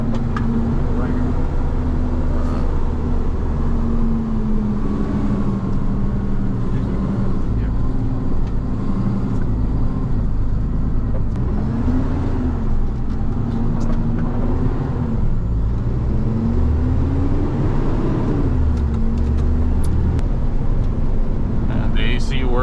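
A car on a pre-purchase inspection test drive gives a steady engine and road drone with a gently wavering hum throughout, while people talk over it.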